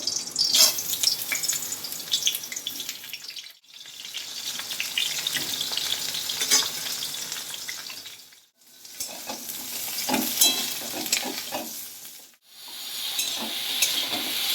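Steady loud sizzling of eggplant frying in hot oil in a wok, with stirring scrapes and a few brief pauses in between; no talking.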